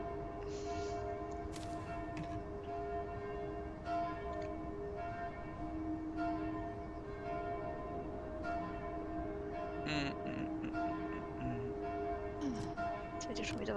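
A bell rings repeatedly in the puzzle video game Gorogoa, its tolling tones sustained over a steady, dense background drone, with some voice-like sound mixed in.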